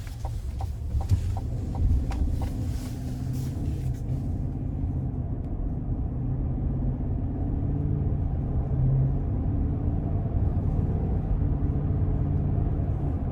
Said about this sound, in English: it's time to go ahead and take this Escalade ESV Sport Platinum out on the road for a quick test drive